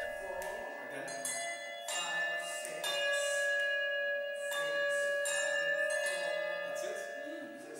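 Handbells ring out a composed bell tune imitating big church bells, a sequence of clear struck tones with long ringing decay, played in a steady measured rhythm.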